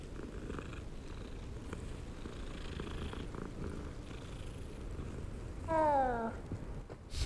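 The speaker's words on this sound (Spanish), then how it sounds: "¿Está lleno de gatos esto o qué?" A cat in the video game Hogwarts Legacy purrs in a steady, low, rumbling loop, close and even, with a brief chirping call near the end.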